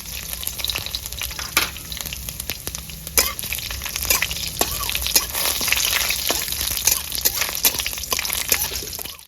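Whole cumin seeds and dried red chillies sizzle in hot oil, with a steady crackling hiss and scattered sharp pops throughout, close and fairly loud, no voices.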